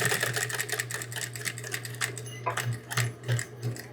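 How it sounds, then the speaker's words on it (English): A sewing machine back stitches on a frog hooded towel with rapid close clattering bursts of needle ticks that start and stop in short runs. "Back stitch here."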